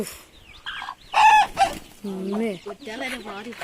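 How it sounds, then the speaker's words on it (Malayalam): Hens and young chicks at a home yard cluck and cheep in short, overlapping bursts, close and fairly loud, with a brief crow-like call among them. "ഓ കോഴിക്കുട്ടികളൊക്കെ മാറി പോവല്ലേ"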